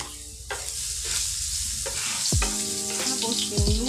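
Garlic fries in a pan with a constant crackling sizzle, broken by several sharp scrapes and knocks of a utensil as it is stirred.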